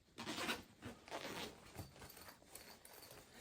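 A zipper being opened on a homemade triple box-style school pencil case, a series of quiet rasping pulls and short scrapes with soft handling noises in between, close and fairly faint.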